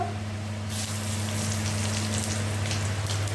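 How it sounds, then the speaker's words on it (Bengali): Dried chillies and nigella seeds hit hot oil for a tempering and sizzle loudly, with a sudden burst that settles into a steady, close crackling hiss. "এরপরে এই যে শুকনো লঙ্কা আর একটু কালো জিরে ফোড়ন দিয়ে নেব।"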